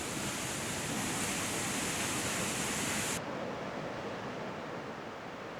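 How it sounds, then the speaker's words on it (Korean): An Icelandic waterfall throws heavy spray in a loud, continuous broadband roar heard up close, shifting partway through to a duller, slightly softer rush. "뒤로 돌아 들어가 바라본 폭포는 물보라를 맞으면서도 들어가 볼 만한 색다른 모습이었다."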